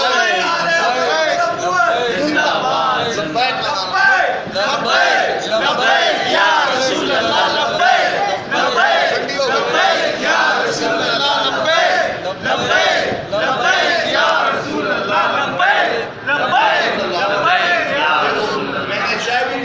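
A large crowd at a religious speech gathering in rural Sindh chants slogans in unison, a dense continuous roar of many voices sustained at full volume.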